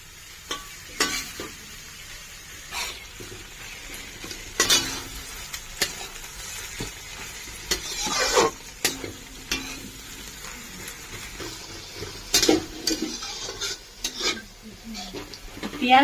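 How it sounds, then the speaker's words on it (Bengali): Onions fry in a pan for mutton curry under a continuous crackling sizzle, broken by repeated scraping and knocking strokes of a spatula against the metal, close and fairly loud throughout. "পেঁয়াজটা আবার ভালো করে ভেজে নেব"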